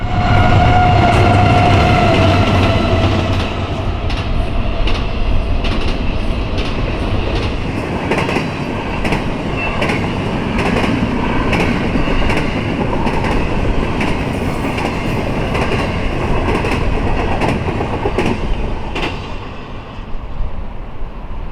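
A CSX freight train rumbles steadily past the Madison Street crossing at close range, its wheels clicking rhythmically over rail joints, with a loud hum that fades slightly near the end.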